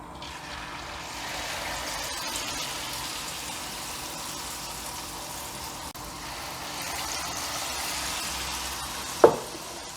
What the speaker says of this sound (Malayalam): അതിന് വേണ്ടിയിട്ട് ഒരല്പം മാവ് എണ്ണയിലിടുക.